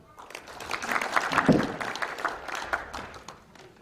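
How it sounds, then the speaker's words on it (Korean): An audience at a redevelopment briefing in Guri gives a short round of scattered applause, with a brief louder surge of clapping before it thins into a few trailing claps. "박수 한번 부탁드리겠습니다"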